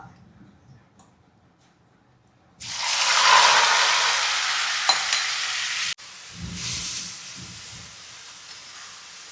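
A quiet stretch gives way to a loud, steady sizzle of crushed red shallots hitting hot oil, dipping briefly then continuing as they fry, with faint stirring.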